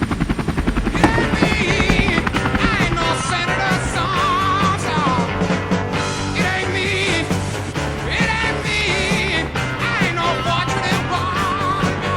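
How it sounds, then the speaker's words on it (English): A loud, continuous helicopter roar with rhythmic rotor thumping, dense and steady throughout, in Alaska. "It all begins with a 20-foot drop from a helicopter."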